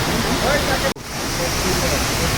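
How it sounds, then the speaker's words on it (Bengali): Bamni waterfall in Purulia, swollen by monsoon rain, roars as a steady broadband rush of falling water, close and loud throughout, with a brief dropout near one second. "সুন্দর জলপ্রপাত পুরুলিয়ার বামনি ওয়াটারফলস বর্ষায় অপরূপ সৌন্দর্য"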